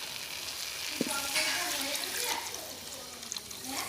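Steady hissing sizzle from a hot pan as water goes in while cabbage is being cooked, with a brief sharp spike near the start and a continuous crackling wash throughout.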